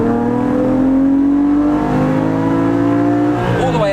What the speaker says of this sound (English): this sounds much more like an engine noise rather than exhaust noise.